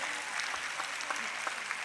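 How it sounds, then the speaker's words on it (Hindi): Audience applause at a ceremony, a steady wash of hand claps that stays fairly faint and even throughout, with no voices standing out. "जरा हाथ उठाइए और ताली बजाइए और अपनी तरफ से सारी टीम का थैंक यू करिए।"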